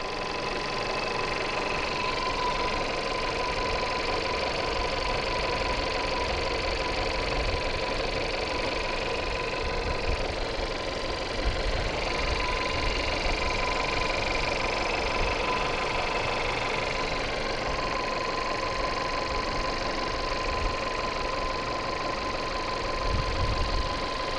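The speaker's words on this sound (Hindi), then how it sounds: "क्योंकि गाड़ी का इंजन स्टार्ट है।" A turbocharged Volkswagen car engine idles steadily nearby, a continuous hum with a faint whine that holds even for the whole stretch.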